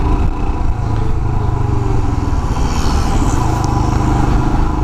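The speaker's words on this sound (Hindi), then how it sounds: "this bike is really smooth" A Royal Enfield Himalayan BS IV motorcycle engine running at a steady, even idle close by, with a continuous low rumble and no speech over it.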